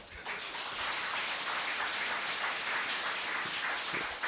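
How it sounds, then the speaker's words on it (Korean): Audience applause at a Korean party officials' meeting, a soft, continuous patter of many hands clapping at a distance, steady throughout with no voices on top. "박수 치시는 분들이 있으니까 감사합니다."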